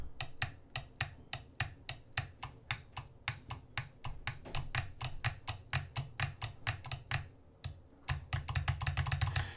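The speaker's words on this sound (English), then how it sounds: "I think it's the most satisfying button press you can get, really, on this wheel" Buttons on a Rosso Sim Racing Mercedes AMG GT3 sim racing wheel are pressed in a long, brisk series of crisp, close plastic clicks, mostly evenly spaced, with a brief pause and then a faster flurry near the end.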